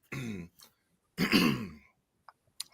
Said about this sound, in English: I clear my throat first before I get into this diatribe.